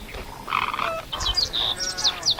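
A crowd of wading birds, wood storks among them, calls from a stream in Gorchs, Buenos Aires, with overlapping chirps and bright tweets rising over a soft outdoor hum, fairly close and busy.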